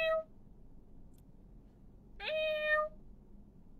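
A woman imitates a cat with her voice, giving a brief nasal meow and then, after a quiet pause, a longer drawn-out meow, close and clear.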